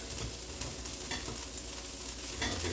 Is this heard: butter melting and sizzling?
yes